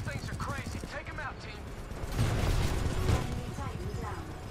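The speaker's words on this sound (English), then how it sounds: "There are mortar titans launching rockets at the harvester." Mortar titans fire rockets at the harvester in Titanfall 2, heavy low rumbling blasts and overlapping launches swelling in the middle, with battle noise throughout and a voice talking over part of it.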